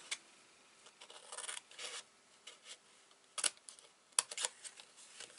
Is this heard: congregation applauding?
no